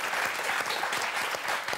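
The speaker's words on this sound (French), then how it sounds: "On vous applaudit très fort" A French TV game-show studio audience on Motus claps steadily, a dense even patter of many hands filling the whole stretch at moderate level with no one talking.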